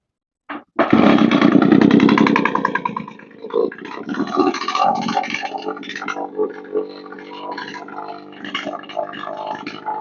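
An Echo PB 1000 leaf blower with a replaced crank seal, cold and freshly fueled, catches after a brief pull and roars loudly, then settles into a rough, fluctuating run nearby.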